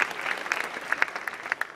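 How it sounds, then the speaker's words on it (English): An audience at a stage show applauds in a steady patter of many hands clapping, moderately close and loud, with no voices over it. "give yourself a round of applause for being here tonight"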